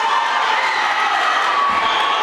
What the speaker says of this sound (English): As you hear the cheer